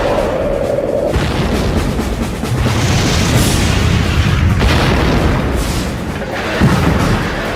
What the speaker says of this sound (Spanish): Una salva golpea al Hood. Penetra 6 cubiertas de acero.